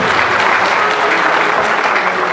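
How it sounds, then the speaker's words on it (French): Wedding guests applauding at a church ceremony, a steady, loud, continuous wash of many hands clapping throughout with no break. "nous applaudissons encore"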